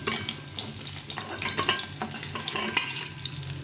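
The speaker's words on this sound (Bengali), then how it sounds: "মাছগুলো উঠে নিয়ে বাকি মাছগুলো ভেজে নেবো" Close, crackling sizzle of shol (snakehead) fish frying in oil, with irregular pops and spatters and a few faint utensil sounds; no voices.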